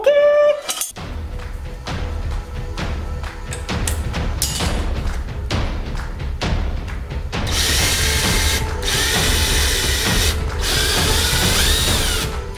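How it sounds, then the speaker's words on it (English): A power drill bores a bolt hole through thick lawnmower blade steel, starting with clicking and ratcheting, then moving into a harsh, grinding whine with brief pauses. The sound is close and loud, and no voices are heard. "we need to go and mark and drill the hole for the bolt"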